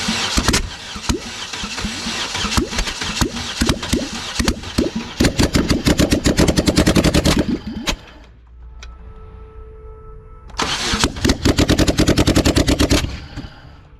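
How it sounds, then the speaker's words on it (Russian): A Chevrolet Cruze that had overheated and just had its timing belt replaced cranks and fires up loud and close, running in harsh, rapid stuttering bursts, cutting out briefly to a low hum, then roaring back. "И все-таки получилось запустить двигатель."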